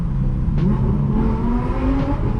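A Nissan GT-R drives along a New York street toward a car meet, its engine a steady, fairly loud hum with a slowly rising tone and no voices over it.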